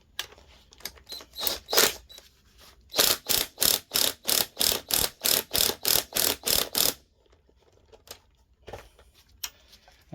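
A ratchet wrench tightens the rear suspension top mount nut on a Ford Puma Mk1, starting with a few scattered clicks, then a steady run of about fourteen loud, evenly spaced ratcheting strokes up close before tapering into quiet.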